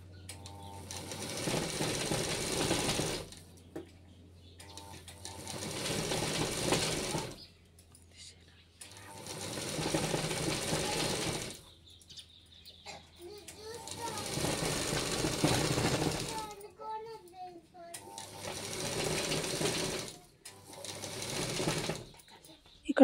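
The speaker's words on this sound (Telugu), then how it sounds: "అలా రౌండ్గా నీట్గా చక్కగా కుట్టుకోవాలి." A sewing machine stitches a full-circle flared baby skirt in several multi-second bursts of rapid mechanical whirring, separated by brief quiet pauses, heard close up.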